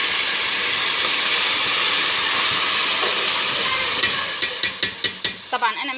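Water being poured onto toasted vermicelli in ghee, with a loud close hiss of steam rushing steadily, then fading into a series of quick bubbling pops and spits as the boiling settles.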